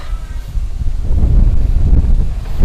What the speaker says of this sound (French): Alors, mince, le vent.